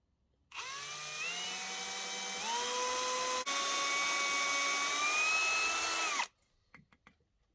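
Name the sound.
drilling a hole in copper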